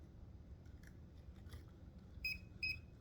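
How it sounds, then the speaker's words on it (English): Two short, high electronic beeps from an insulation tester checking insulated instruments sound near the end, faint against a quiet background with a few soft clicks earlier. "I'm getting a little beeping action somewhere around here."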